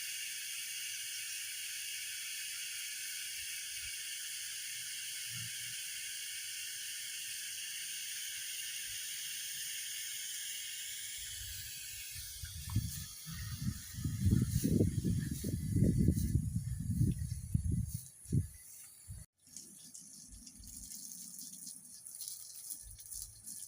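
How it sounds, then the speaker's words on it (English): Pressure sprayer spraying soft wash solution on apartment walls: a steady, close hiss for the first half, then turning into rougher, gusty spraying bursts that fade out, with no talk. "So I'll spritz it here and go up."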